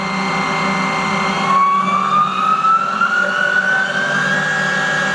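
A Haas ST-10Y CNC turning lathe with a live milling tool runs up to 2000 RPM, a steady machine whine rising in pitch over a constant low hum at close range. No voices.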